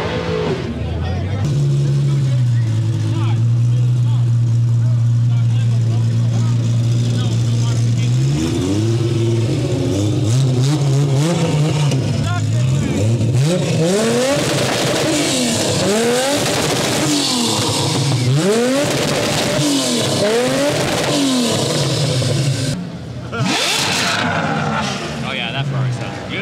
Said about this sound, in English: Oh yeah, that Ferrari sounds good.